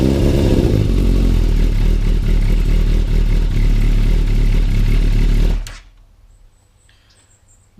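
A Yamaha YZF 600 Thundercat motorcycle engine runs loud and close with a rough, steady rumble for about five seconds, then cuts off abruptly to near silence.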